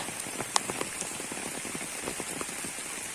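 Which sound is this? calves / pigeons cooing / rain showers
rain showers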